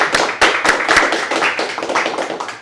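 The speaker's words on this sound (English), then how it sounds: "I hope everyone gives me a well round of applause for Ben Sears for being here today" Audience applause at a comic arts festival spotlight panel in Nashville, with close, loud individual claps that start sharp and uneven and then settle into a steady patter lasting a few seconds.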